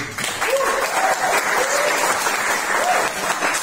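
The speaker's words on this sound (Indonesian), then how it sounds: "beri tepuk tangan dulu" A youth gathering at a church retreat breaks into loud, full applause, dense clapping that stays steady throughout, with a few voices and whoops rising through the crowd noise.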